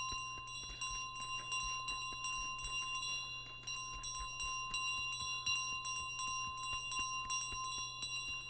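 Bells ring rapidly and repeatedly in Untitled Goose Game, a dense rhythmic run of bright metallic dings over a steady low hum, sounding close and clear with no talk.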